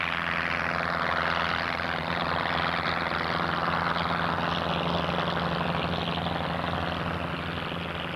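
The Voyager propeller aircraft of 1986 roars on takeoff, its engine drone loud, close and unbroken for the whole stretch with no voices.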